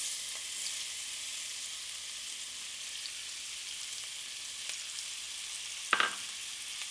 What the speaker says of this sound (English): And you can see this sizzling a little bit.